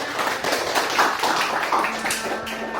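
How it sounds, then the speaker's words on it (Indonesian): Brief, moderate clapping from a university audience at an Indonesian teaching-program event, scattered taps blending into a short round of applause. "Tepuk tangan untuk kita semua."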